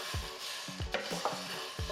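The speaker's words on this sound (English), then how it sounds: "bring them to a dry frying pan and roast them with low heat until you can really smell those chilies aroma" Dry red chilies roast over low heat in a dry frying pan for Thai glass noodle salad, giving a soft, continuous crackle and rustle with a few scraping stirs, close and fairly quiet.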